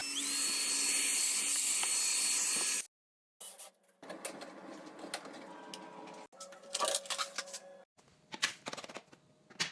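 A MOOSOO K17 Pro cordless vacuum cleaner runs at high power with a loud steady whine, then cuts out briefly and resumes in uneven bursts as it is moved over surfaces.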